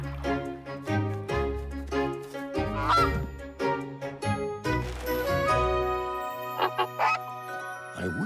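Cartoon goose honking in a run of loud, pitched calls with a musical score underneath, ending in a few short sharp honks; no talking.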